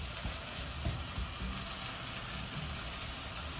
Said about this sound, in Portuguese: E agora eu aumentei mais um pouquinho para poder dar mais uma dourada na cebola.